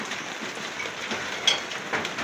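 Rain falls in a steady, close, even hiss with a few brief louder spatters, caught while travelling on a road; no one speaks.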